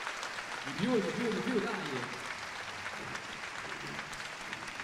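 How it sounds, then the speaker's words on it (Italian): An audience at a music recital applauds with a fairly soft, steady wash of clapping while a voice calls out over it. "lo posso dire con un applauso"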